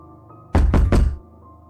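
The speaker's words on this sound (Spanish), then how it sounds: "Los golpes en la puerta llegaron después." Three quick, heavy knocks land on a wooden door in a tight burst, loud and close, then give way to near silence.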